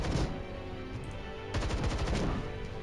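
Video game gunfire in Templar Battleforce as troops shoot at Xeno enemies: bursts of rapid, clattering automatic shots, a short volley at the start and a louder sustained burst midway, with no voices.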